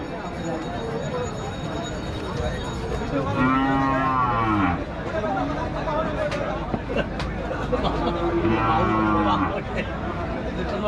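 Bulls at a busy cattle market in Rajshahi give two long, drawn-out moos, one early and one later, close and loud over steady crowd chatter and nearby talking.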